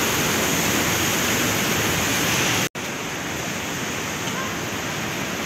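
A river runs through a cave near a waterfall, giving a loud, steady, broadband rush close by that fills the whole stretch. One very brief dropout breaks it midway.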